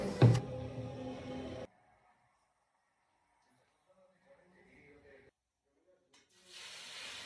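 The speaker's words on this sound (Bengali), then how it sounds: "তো মাছগুলো ভেজে নিয়ে শেষে আমি মাছের ডিমগুলো ভেজে নেবো" Fish frying in a pan, with loud sizzling and spattering at the start that cuts off abruptly into near silence, then faint rustles and a steady hiss of frying returning near the end.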